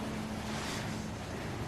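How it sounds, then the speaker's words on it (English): Water from a sprinkler system sprays continuously, a dense, steady hiss with a low rumble running unbroken throughout, fairly faint and with no talk over it. "If you hear any sounds of water, it's the sprinkler system."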